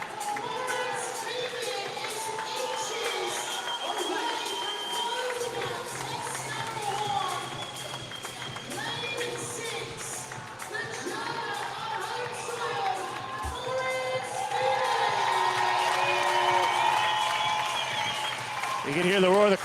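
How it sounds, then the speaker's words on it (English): A crowd roars and cheers for a hometown athlete at a fitness competition semifinal in Germany, a sustained swelling din that grows louder near the end, with a commentator talking over it. "You can hear the roar of the crowd for Morris Wiebig, hometown athlete here in Germany."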